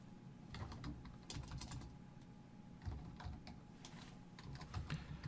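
Soft, faint plastic key presses on a TI-Nspire CX II graphing calculator keypad, irregular clusters of quiet taps separated by short pauses, with no voices.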